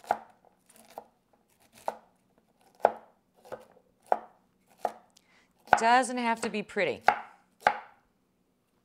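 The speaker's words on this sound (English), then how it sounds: "Just going to give this a rough chop." A knife rough-chops cauliflower on a board in about nine sharp, evenly spaced whacks, close and crisp, while a voice briefly talks in the middle.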